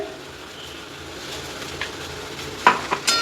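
Tomato and chilli paste is stirred in a frying pan for a jackfruit and chickpea curry, giving a soft scraping and sizzling hiss that ends with a few sharp utensil clinks against the pan.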